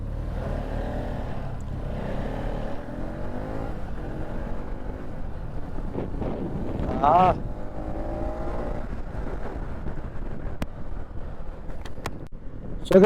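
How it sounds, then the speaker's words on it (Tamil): A Bajaj motorcycle cruising at speed on a new Malaysian expressway: a steady engine drone under heavy wind rush throughout, with a brief louder gust midway and a few sharp clicks near the end. "நம்ம பஜாஜ் பைக்காலையும் இந்த அளவுக்கு ஓட்ட முடியுங்கிறது செம்ம ஹாப்பி"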